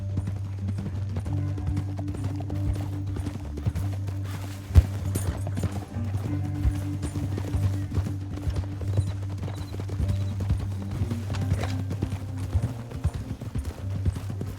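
Steady hoofbeats of horses at a run in Red Dead Redemption 2, a continuous rumbling clatter with a low droning backdrop and one sharp thump partway through.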